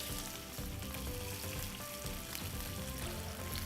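A skin-on fish fillet fries skin side down in extra virgin olive oil, giving a steady, dense sizzle with soft crackling pops throughout, fairly quiet and with no voices.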